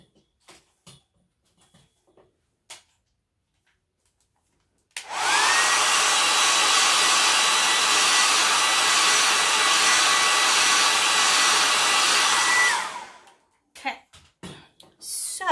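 A hair dryer blows on painted wood of a homemade wooden sign, a loud, steady whooshing roar for about eight seconds, with a few light knocks and handling sounds just before and after.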